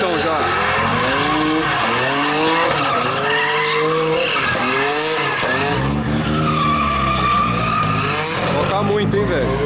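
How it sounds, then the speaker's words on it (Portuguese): A drift car skids around a track with long, loud tire squeals that rise and fall over a roaring engine, continuous and close, while people talk and shout over it. "É drift o tempo todo aqui"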